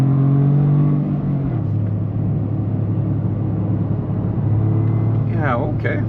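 A 2025 Toyota GR Corolla Premium accelerates while driving, its engine a loud, steady drone with a pitch step partway through, then a brief rising sweep near the end.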